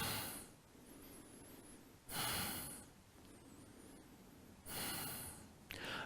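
Slow, deep breaths during a vinyasa yoga flow, with three long, airy exhales or inhales spaced a couple of seconds apart, close and soft against a quiet room.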